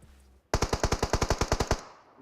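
Automatic gunfire in the mobile game PUBG Mobile: a loud, close burst of about fourteen rapid evenly spaced shots that ends with a short decaying tail.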